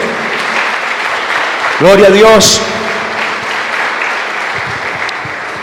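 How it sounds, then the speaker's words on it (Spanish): Congregation applauding in a Spanish-language church service: steady, full clapping spread through the room, with a voice calling out loudly over it about midway. "Damos un aplauso a Jesucristo"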